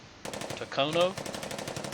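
Rapid machine-gun bursts ring out in the wartime strategy game Hearts of Iron III, quiet, dense rattling fire that carries on through the whole stretch after a brief lead-in.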